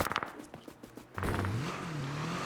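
Video game car engine sounds in a survival fighting game: short rhythmic thumps, then a sustained engine drone that rises and shifts pitch as the car accelerates.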